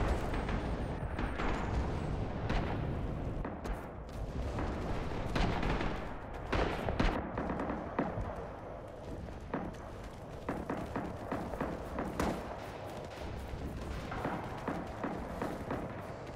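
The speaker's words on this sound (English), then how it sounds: "I just barely got enough time for that artillery." Dense artillery and gunfire from the Red Orchestra / Rising Storm battlefield, repeated booming impacts and crackling shots layered continuously over a loud, busy combat din.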